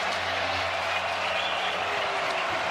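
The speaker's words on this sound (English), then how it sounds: "Crowd in it for the first time since very early on tonight." A football stadium crowd at a Washington State versus Virginia college game cheers in a dense, steady roar that stays loud and unbroken throughout, with no distinct voices standing out.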